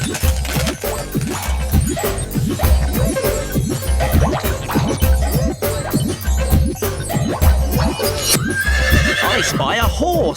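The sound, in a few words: horse neighing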